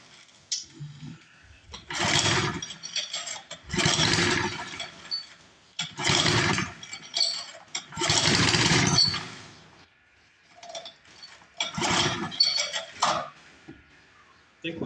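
A 1962 Hahn Eclipse rototiller engine is cranked in five or six loud, rhythmic bursts separated by short pauses, each a rough churning pull that fails to catch, recorded up close.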